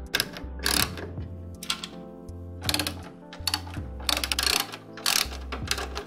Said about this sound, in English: All you need to do is take off these four screws here